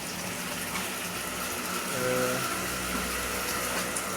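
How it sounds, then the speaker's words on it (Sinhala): Water drains from a 200-litre animal tank during a water change: a continuous pumping gush with a low steady hum, rising slightly in the middle and otherwise constant. "වෝටර් චේන්ජ් එකක් දෙන්න වතුර අයින් කරලා තියෙන්නේ වතුර අයින් කරන ගමන් තියෙන්නේ"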